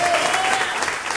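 A church congregation at a workers' anointing service claps in a dense, steady burst lasting about a second, with a faint tone sustained beneath it.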